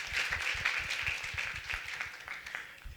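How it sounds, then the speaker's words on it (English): Applause from a modest audience at the 2022 AAAS HBCU Making and Innovation Showcase, steady overlapping claps heard at a distance and quiet, slowly tapering off. "Let's give them a round of applause."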